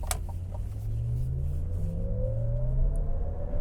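A 2023 Cadillac Lyriq single-motor electric car accelerates on a test drive, with a rising electric whine over steady low road rumble inside the cabin, with no voices.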